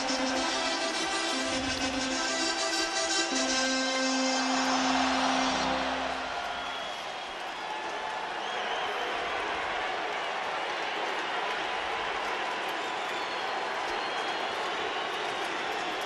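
An energized crowd roars at a Major League Baseball playoff game between the Arizona Diamondbacks and Los Angeles Dodgers. A broad, sustained roar with tonal organ-like notes early, steady throughout.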